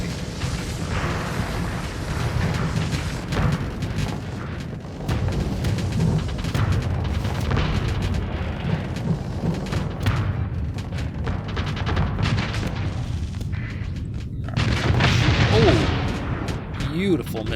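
Missile strikes and weapon fire in the space combat game Starsector, a dense, continuous barrage of booms and rapid impacts with heavier blasts swelling near the end, a voice talking over the din.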